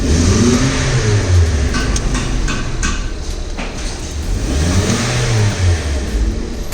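A car engine from a Suzuki Baleno fitted with a Toyota Axio engine revs repeatedly in a workshop, loud and close, with rising and falling engine pitch over a steady idle and faint clanking in the background.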